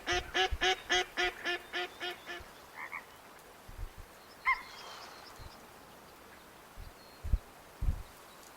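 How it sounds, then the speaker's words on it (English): Mallard ducks in a hunting video game quack in a quick series of about eight loud, raspy calls, then fall quiet apart from a few fainter calls and soft thumps against an ambient outdoor backdrop. "is that the mallards? Or wild ducks as they call them here?"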